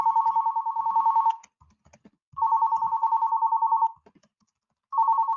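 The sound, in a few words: software chat call ringing tone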